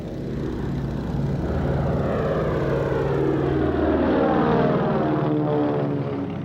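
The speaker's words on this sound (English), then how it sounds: "One of the most visible civilian airliners flying in Australia is the Lockheed Electra" A restored 1937 Lockheed Electra propeller airliner flies past with a steady, throbbing engine and propeller drone that stays loud and fairly even throughout.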